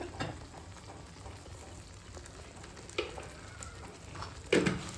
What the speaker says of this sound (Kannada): ಸೊ ಇದನ್ನ ಫ್ರೈ ಮಾಡ್ಕೊತೀವಿ.